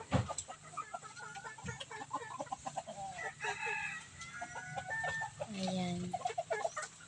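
Backyard chickens cluck and squawk close by in a steady stream of calls, with a louder drawn-out call near the end.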